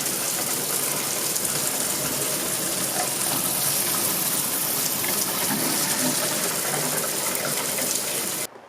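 Water gushing steadily from a leaking water heater hookup during a home renovation, a continuous broad hiss close by that stops abruptly at the end.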